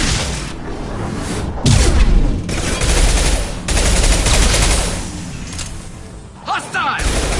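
Heavy gunfire from Mass Effect 2 combat, with dense bursts of shots and booming impacts, loud and continuous, mixed with game voices calling out over the battle.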